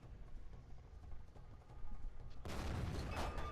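A tank gun fires during a match in an arctic-map video game, a sudden loud blast breaking in partway through after quieter low rumbling engine noise, then a sustained roaring tail.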